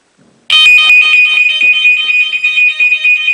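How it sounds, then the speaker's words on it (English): Alarm clock going off in a home with a cat nearby, bursting in suddenly with a loud, shrill, continuous electronic ringing that stays piercing and steady, no voices over it. "Watch what happens when the alarm clock goes off here within the next few seconds."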